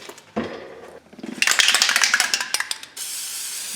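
Fluid Film anti-corrosion coating sprayed from an aerosol can onto the front brakes of a Chevy Silverado pickup, loud close hissing bursts with rattling pulses, ending in a steady spray.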